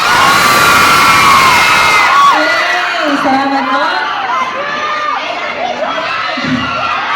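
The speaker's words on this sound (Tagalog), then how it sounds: "Isang malakas na malakas sa palakpakan at sigawan dyan!" A large crowd at a mall concert roars with loud cheering, shrieks and whoops, many young voices shouting at once in a sustained, swelling din that eases slightly; a performer briefly speaks at the start.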